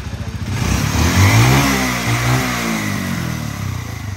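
A 2017 Pulsar NS 200 motorcycle engine pulses at a steady idle, then revs up loudly, holds, and settles back to a throbbing idle, close and alone without talk.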